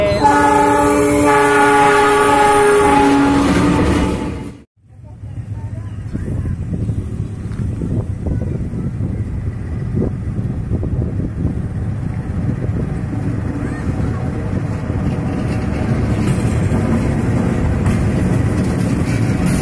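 A CC 206 diesel locomotive on a trial run over new double-track railway rumbles loudly nearby with a deep, continuous engine drone and a sustained horn blast at the start, then keeps growling on after a brief lull.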